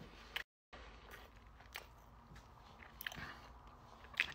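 Food is chewed and bitten close up, with a few short crunchy bites spread over quiet moments and no clear talk.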